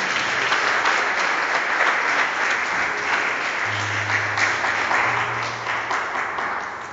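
A church congregation applauding to acclaim the Lord: steady, dense clapping from a large crowd fills the whole stretch, loud and continuous, fading slightly at the end, with a few voices faintly underneath.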